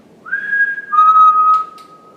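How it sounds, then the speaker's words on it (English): A person whistles inside a dark prison wing at Shrewsbury: one clear sustained note steps down to a slightly lower held tone, loud and close, with a couple of faint clicks near the end. "you whistle and you just wait and just hear whistling comes back at you"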